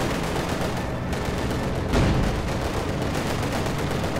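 Incendiary artillery barrage in the Company of Heroes 2 wartime strategy game: a steady wash of crackling gunfire and rumbling explosions, with a heavier boom near the two-second mark, loud and continuous throughout.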